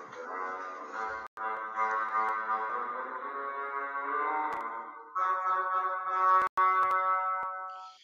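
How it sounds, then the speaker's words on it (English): A bassoon, lower than the clarinet, plays the grandfather theme from Peter and the Wolf in a steady, fairly loud solo line with brief breaks between phrases and no speech. "There you'll notice another low sound, but even lower than the clarinet. There you have a bassoon"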